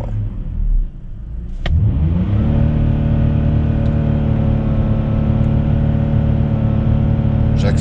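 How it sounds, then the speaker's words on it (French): A BMW 530i engine revs at full throttle, a brief dip then a loud sustained close-up roar that holds steady at high revs for several seconds. "J'accélère à fond."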